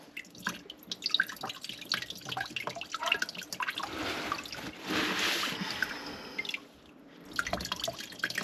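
Water runs and splashes into a clogged bathroom sink, gurgling and dripping unevenly up close, with a louder rushing stretch midway before it settles into trickles.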